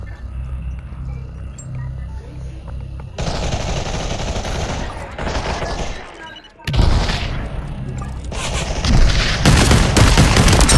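Bursts of gunfire in the VR shooter Pop One, with loud rapid automatic fire and booms growing denser toward the end, heard alone without voices.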